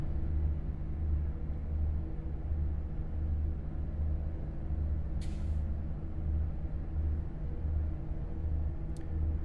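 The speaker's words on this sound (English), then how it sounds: "I just love the sound of this Jake on this particular truck engine." A heavy truck engine in the video game American Truck Simulator rumbles steadily with a throbbing low-pitched Jake brake drone, plus two short hissing bursts, no voices.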